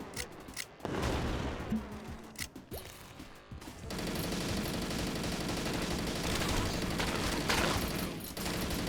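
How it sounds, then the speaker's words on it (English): Video game gunfire rattles in dense, continuous bursts of automatic fire, loud and close, with heavy booms and mechanical clatter in between and a near-constant roar through the second half. "You can't hear them over the gunfire at all."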